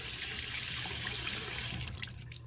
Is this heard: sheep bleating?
no